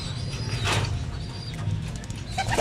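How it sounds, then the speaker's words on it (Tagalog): Racing pigeons coo in a loft, with soft, low, repeated cooing close by and some faint rustling and brief chirps in the background. "Tingnan nyo mabuti mga kalapatids, no?"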